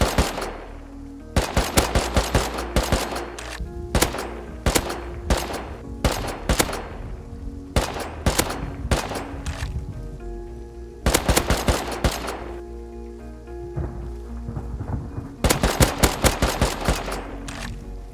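Rapid bursts of AK rifle fire in a survival shooter game, several loud close volleys of automatic shots separated by short pauses, with no talking.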